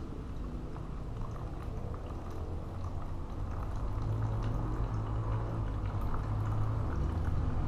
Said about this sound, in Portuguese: Estamos aqui com a água sanitária, vai colocar dentro. Colocando aqui, vamos despejar tudo.